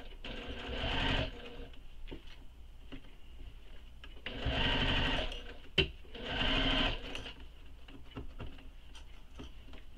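A sewing machine stitches a zipper onto a bag in three separate bursts of rapid, whirring stitching with quiet handling clicks between them.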